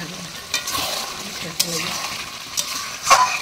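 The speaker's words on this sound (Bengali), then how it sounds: "কষা চলছে, কষা তেল ছেড়েছে মা।" Meat and spices sauté in oil over a wood-fired clay stove, with a steady sizzle under scattered stirring scrapes and clinks against the pot, close by, and no one speaking.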